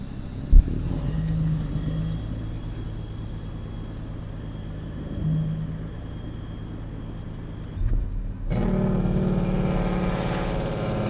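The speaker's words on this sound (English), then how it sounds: "how much you like the sound of the Jake brakes on these trucks" A heavy truck engine rumbles steadily, then cuts to a harsher, louder rattling roar of an engine brake after a brief hiss.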